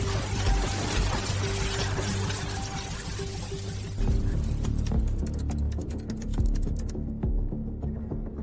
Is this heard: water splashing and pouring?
yes